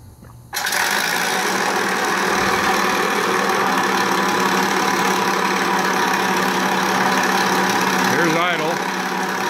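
Engine sound from an ESS Air Sound System on a Flight Line Spitfire Mk IXc model plane, starting abruptly and then holding a steady, loud, buzzy idle with a slight wavering near the end, with no talk over it.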